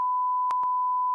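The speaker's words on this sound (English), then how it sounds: "I'm gonna beep that out." Censor beep sound effect, a loud pure steady tone held for just over a second, alone with brief clicks at its edges.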